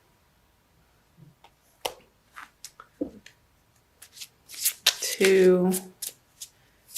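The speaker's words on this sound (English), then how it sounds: "I'm going to pull a crystal card for you from Judy Hall's deck using the Crystal Wisdom Healing Oracle." A deck of crystal oracle cards is shuffled and handled in a series of short, close, crisp riffles and taps, with a brief burst of speech partway through.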